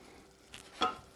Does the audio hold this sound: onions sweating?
yes